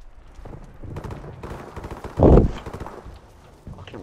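Gunfire in Modern Warfare Remastered: a single loud, sharp blast stands out midway among scattered quieter shots and rattling game noise, with no talk over it.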